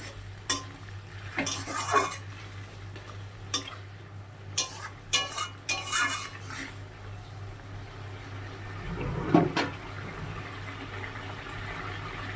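Puti fish curry gravy simmers in a pan while a metal spoon stirs it, giving sporadic clinks and scrapes against the pan over a quiet, low bubbling background.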